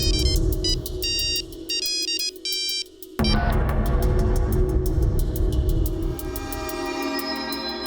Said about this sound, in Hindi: अपने इंटरव्यू के वक्त अपने फोन को स्विच ऑफ नहीं रख सकती?